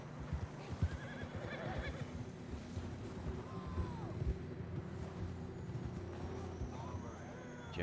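Horses whinny several times in the Red Dead Redemption II video game over a steady bed of clip-clopping hooves and ambient outdoor noise, moderately near and fairly quiet overall.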